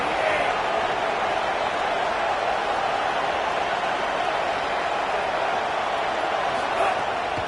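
A roaring stadium crowd at a Texas Tech football game builds loud, continuous broadband noise on a third down, a sustained wall of cheering with no clear pauses.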